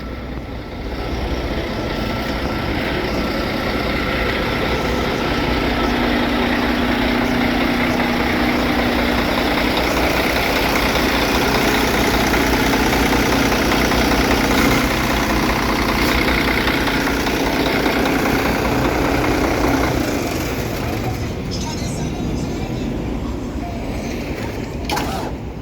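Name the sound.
cash truck engine idling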